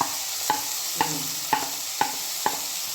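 Tomatoes go into a pan of softened frying onions, with a steady sizzle broken by regular spoon scrapes about every half second, close and without talk.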